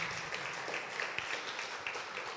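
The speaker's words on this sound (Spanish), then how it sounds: "Dale un aplauso al Señor, mi hermano." A church congregation applauding, a dense continuous patter of many hands clapping at a steady level without pause.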